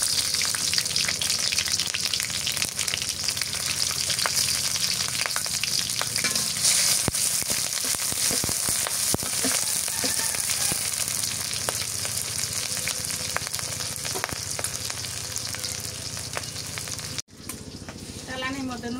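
Garlic and green chilli fry in hot mustard oil with a loud, steady crackling sizzle and occasional stirring, close up, before a brief dip near the end.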